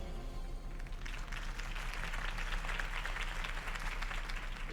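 Crowd applause at a political campaign rally in the video game Batman: The Telltale Series, a sustained wash of many hands clapping that builds after the first second and continues steadily, moderately distant.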